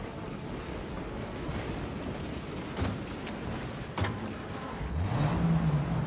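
A car driving in the video game Mafia: Definitive Edition, its engine a steady low rumble with a rev rising near the end, fairly quiet with a couple of brief knocks.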